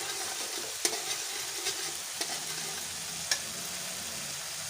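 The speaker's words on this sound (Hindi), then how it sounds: "लहसुन डाल देती हूँ और मसाले के साथ में से भी अच्छी तरह से फ्राई कर लेती हूँ खुशबू आने तक" Garlic and spices frying in a pan for a moringa dish, a steady soft sizzle with a few sharp stirring clinks, close and fairly quiet, no talking.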